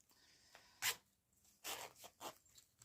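A zipper on a sewing project, a handmade project handbag, is pulled open in several short, close, rasping strokes with brief pauses between them.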